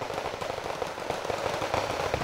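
Mortar shells exploding in a tank video game, a dense crackling rumble of overlapping blasts, steady and fairly loud across the short stretch.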